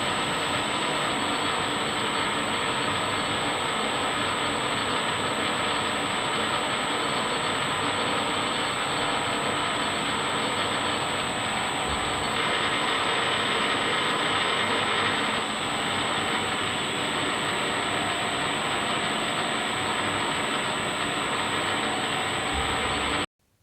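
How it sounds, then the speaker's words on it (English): A lathe turns metal stock down to diameter for a Stuart model oscillating engine end cap. It gives a continuous, loud, broadband machining roar with a whining tone, steady and alone for over twenty seconds. "I am starting with the top end cap by turning the stock down to diameter"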